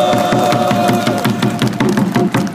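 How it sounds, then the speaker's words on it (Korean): A crowd at an outdoor labor rally of dismissed workers claps and cheers steadily, dense rhythmic clapping filling the space at a fairly loud level. "힘찬 박수 보내주십시오"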